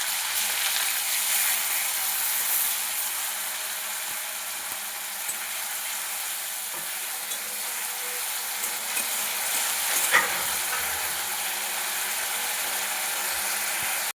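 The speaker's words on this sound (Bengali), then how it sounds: "পেঁয়াজটা একটু ভেজে নিয়ে এর মধ্যে দিয়ে দেবো আদা রসুনের পেস্ট" Steady, loud hiss of chopped onions and onion paste frying in oil in a pan with bay leaf, dried chilli and five-spice seeds for mutton ghugni, continuous sizzle with faint crackles and no voices.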